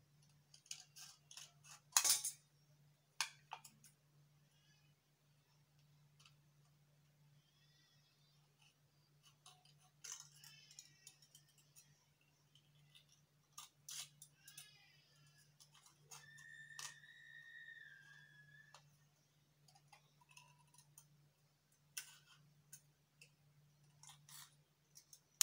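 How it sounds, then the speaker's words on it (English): Scissors trim fabric in scattered, quiet snips and clicks spread across a near-silent room with a faint steady hum, with a few brief handling rustles between cuts. "I'll trim it out with my scissors."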